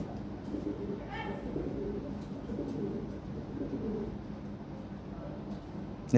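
Lahore Siraji fancy pigeons coo softly in a steady, low murmuring bed of sound, with a brief brighter call rising early on and a muffled voice faintly beneath.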